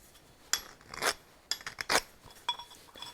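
A few sharp metallic scraping strokes of a triangle file deburring a metal edge on a bench vise, each a quick rasping pass followed by brief pauses, close up and fairly quiet.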